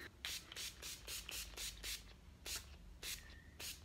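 Several quick bursts of fine spray hiss from NYX Matte Finish setting spray, one after another in an uneven rhythm, close and fairly quiet with no talking.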